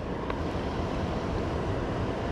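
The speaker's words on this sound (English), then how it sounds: "But the blower's running" An HVAC blower fan on an American Standard system runs steadily, a constant broadband whoosh with a low rumble that holds at an even level throughout, with no talking over it.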